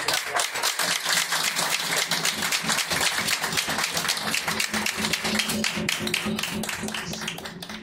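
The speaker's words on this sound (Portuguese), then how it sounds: "Então, a SESEC bate palmas." Audience applause at a festa de Exú gathering, dense steady clapping from many hands filling the whole stretch, close and continuous without a break.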